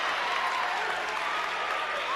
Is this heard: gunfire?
no